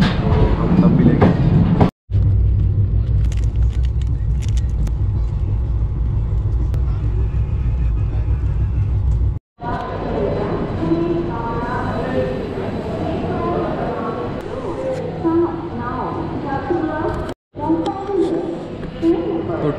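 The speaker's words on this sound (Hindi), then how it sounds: "ट्रेन रुक गई बिलासपुर जंक्शन में, 15 मिनट के लिए रुके" Passenger train running and then halting at Bilaspur Junction in Chhattisgarh, a steady loud rumble of wheels and carriage that gives way after abrupt cuts to quieter station bustle and faint voices.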